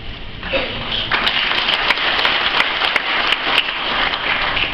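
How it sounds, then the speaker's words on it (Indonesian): An audience claps through a speech on Pancasila, producing a sustained wash of applause with scattered sharper claps; a faint voice may sit underneath. "Nggak usah ditepuki."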